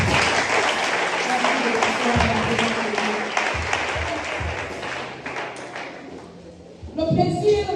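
A church congregation claps and cheers for the Lord, a dense wash of applause and shouting voices that thins in the middle, then rises again in a louder burst at the end.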